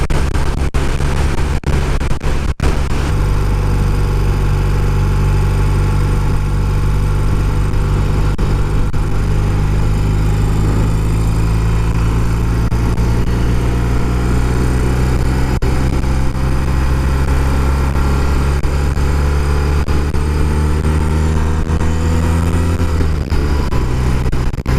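A restored 1971 BMW R60/5 motorcycle with its boxer twin running steadily, the engine note rising gradually as it accelerates under throttle, loud and close, with a brief drop near the end and no talking.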